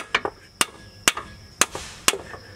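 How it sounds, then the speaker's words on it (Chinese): Five sharp metallic hammer blows land on a pry bar wedged under a 2006 Lexus RX 400h, between the CV axle and the transmission. They come at a steady half-second rhythm, close and loud, with no talk. "然后我又到车下面用锤子敲 pry bar"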